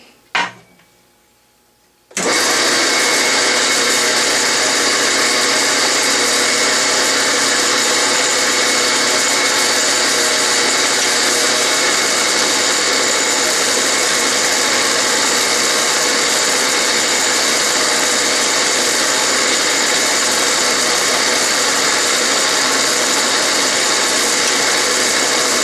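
A power tap drives threads into aluminum holes with cutting fluid, a loud, steady high-pitched mechanical whine and grind that starts abruptly after a brief quiet moment and continues unbroken to the end.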